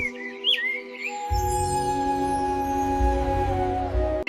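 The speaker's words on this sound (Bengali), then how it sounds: "পাখিটি উড়ে গিয়ে ডালে বসে গান গাইতে শুরু করল" A bird chirps and sings from a branch in a short narrated sound effect, a few bright near tweets over a soft ambient pad that swells to a low hum midway.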